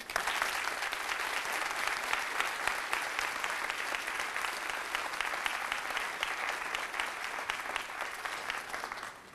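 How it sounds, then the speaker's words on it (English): Steady applause from a large audience at a graduation ceremony, sustained dense clapping filling the hall and tapering slightly near the end. "Can we give your supporters a clap, please?"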